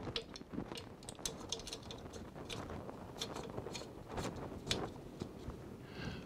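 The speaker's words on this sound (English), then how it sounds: "Take our screw and our 3/16 Allen wrench and mount it from the back side." Small metallic clicks and ratcheting ticks come from a 3/16 Allen wrench driving a screw into a quiver's riser bracket, quiet and close in an irregular run of taps.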